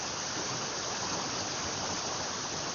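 A creek runs beside a hiking trail, giving a steady, close rush of flowing water that holds an even level throughout, with no voices.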